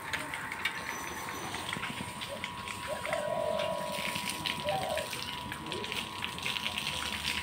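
Water is poured and splashed outside on hot ground to cool it and settle dust, a steady moderate gushing wash with faint birds and background voices.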